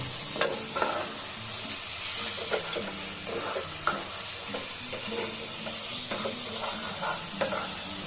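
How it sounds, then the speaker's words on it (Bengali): Masala sizzles steadily in a pan over medium to high flame for a prawn and egg biryani, with intermittent clinks and scrapes of a spoon stirring, close and continuous. "এবার আমি একটু কষিয়ে নেব মিডিয়াম টু হাই ফ্লেম"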